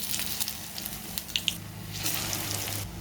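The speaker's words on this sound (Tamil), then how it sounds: "இப்போ நம்ம நல்லா சுட சுட ஆயிலில் வந்து ஃப்ரை பண்ணி எடுத்துடலாம்." Bread slices frying in hot oil over a medium flame for an easy bread snack, with a soft steady sizzle and a couple of brief crackles, close up and alone.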